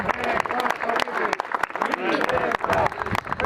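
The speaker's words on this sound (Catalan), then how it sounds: "Un fort aplaudiment per ells" A crowd at a Catalan Aplec Marina Alta 2019 gathering claps loudly with irregular sharp claps, mixed with voices and crowd noise.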